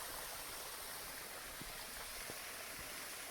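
A stream and small waterfall at Shirataki Shrine on the slopes of Mount Tsukuba rush with a steady, broad hiss, with a couple of faint knocks in the middle and no voices.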